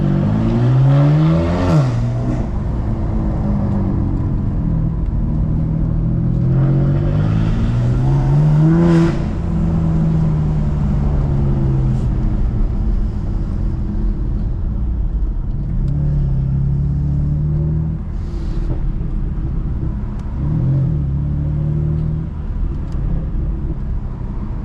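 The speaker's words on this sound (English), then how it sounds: "I'll shut up and drive and let you hear the engine a little bit." A 500 HP 2020 BMW F82 M4 engine drones steadily from inside the cabin while driving, a continuous loud rumble with a few brief revving swells and shifts, with no talking.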